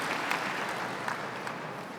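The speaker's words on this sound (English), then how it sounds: "Please give Thomas a big round of applause." A keynote audience at an Oracle Code event in New Delhi applauds its speaker, a soft, steady patter of many hands heard from a distance at an even level.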